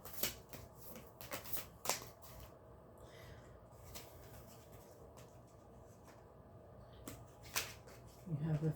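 Tarot cards being shuffled close up, in quick riffles and soft shuffling bursts with pauses between, fairly quiet.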